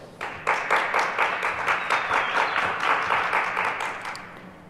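An audience at DEF CON 20's awards ceremony claps and cheers, a burst of applause that swells, holds with rhythmic clapping for a few seconds, then fades.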